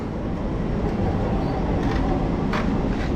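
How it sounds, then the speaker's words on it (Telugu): MEMU multiple unit train on the Rajahmundry to Vijayawada line, a dense steady rumble and rolling noise at a platform, loud and close with faint brief clanks, no clear talk. "ఎంఈఎంయు అంటే లైక్ మల్టిపుల్ యూనిట్స్ ట్రైన్ అనమాట"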